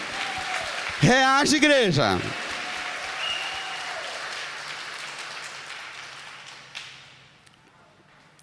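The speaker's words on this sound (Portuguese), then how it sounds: "Uma salva de palmas para a viúva." Church congregation applauding during a Catholic Mass homily, a burst of clapping that swells after a preacher's exclamation and then slowly fades, with the preacher's voice heard over the start.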